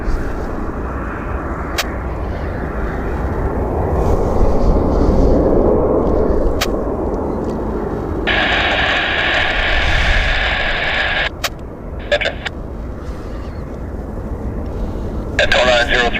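Airliner landing on runway 26 right at Vancouver airport, a steady broadband jet roar under continuous radio-style talk, with a brief tonal band and clicks midway.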